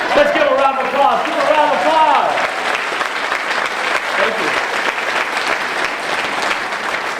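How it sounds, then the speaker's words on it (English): Audience applause at a school district leadership conference, a steady wash of clapping that fills most of the clip, with a voice speaking briefly over it at the start. "Let's give a round of applause."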